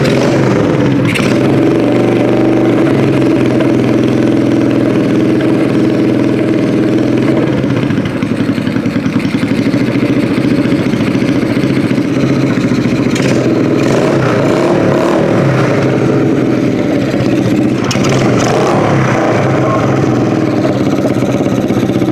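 A dirt bike engine runs loud and close, holding a steady buzzing idle with a few brief blips of revving throughout.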